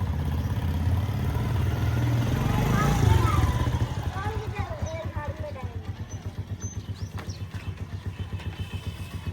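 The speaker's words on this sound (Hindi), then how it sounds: "अब लेके आ रहा है मोटरसाइकिल" A motorcycle engine idles close by with a steady low puttering throbbing through the whole stretch, a bit louder early on, while voices talk over it.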